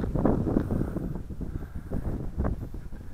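Gusty wind buffeting the microphone around an Eachine CG022 quadcopter drone with prop guards, flying on a windy day; low rumbling gusts rise and fall in several swells, with a faint high motor whine above.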